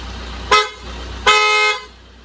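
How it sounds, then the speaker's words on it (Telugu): An aftermarket horn fitted to a car at a mechanic's workshop in Karimnagar sounds twice: a short toot, then a longer, loud, bright blast, both close up, over a low background hum. "ఫిట్ చేసిన హారన్ సౌండ్ ఇనూరి"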